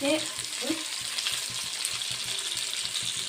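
Pirandai (adamant creeper) sautéing with salt in a pan, a close, continuous sizzle with quick scraping strokes of a spatula stirring in a steady rhythm.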